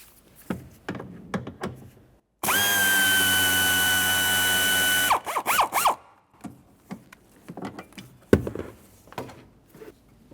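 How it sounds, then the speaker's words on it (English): A power tool with a T50 bit drives out a door mounting bolt on a 1999-2006 Chevrolet Silverado 1500: one loud, steady whirring burst of about three seconds, with handling clicks and clatter before and after. "Now we'll be using a T50 to remove the mounting bolt here."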